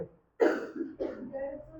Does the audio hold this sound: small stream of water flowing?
no